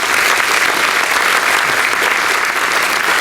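Banquet audience at a spring reunion gives loud, dense, sustained applause, many hands clapping continuously and evenly throughout with no talk over it.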